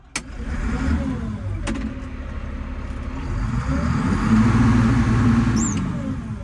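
A 1996 White 6195 Workhorse farm tractor with a pre-emissions engine idling and revving gently nearby, a steady low rumble with a couple of sharp clicks and a slight rise in engine note.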